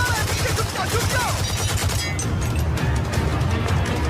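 Movie gunfire rattles in a dense, continuous barrage of rapid shots, loud and close, with low booming impacts throughout and faint voices mixed in.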